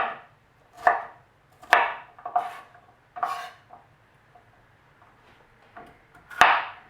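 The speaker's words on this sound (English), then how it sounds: "Couple of spots on that pepper I have to cut out." A knife cuts spots out of a pepper on a board, giving sharp, irregular taps and short scraping cuts spaced apart, close and fairly quiet, with no talking.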